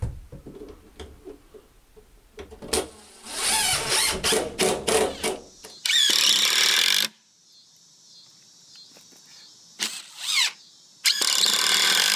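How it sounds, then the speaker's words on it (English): A DeWalt 20V MAX XR brushless compact cordless drill whirs in several short bursts and a few longer runs, with a high motor whine and some clicking between them, close by. "It's an awesome drill, dude."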